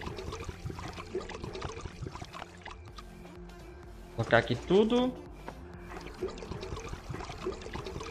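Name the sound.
water pouring while filling motorbike, Last Day on Earth video game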